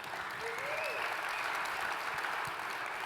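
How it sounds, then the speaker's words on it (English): An audience at a hackathon winners' event claps in sustained applause, a dense, even patter filling the room while a faint voice or whistle rises briefly above it early on. "Give a round of applause for Simularity."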